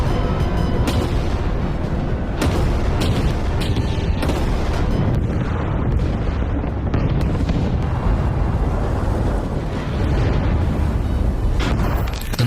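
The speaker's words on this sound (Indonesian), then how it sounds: "dari kejauhan, pasukan artileri Jerman mulai melakukan penyerangan bertubi-tubi." A German artillery bombardment at the start of a war, heard as a dense, continuous roar of explosions and booms. Heavy low rumble fills the whole stretch, with sharper bursts standing out now and then.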